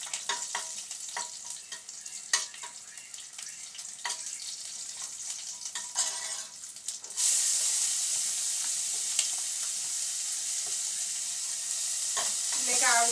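Crushed garlic sizzles in a pan, with scraping stir strokes at first, then a louder, steady frying hiss for the second half, and no voices.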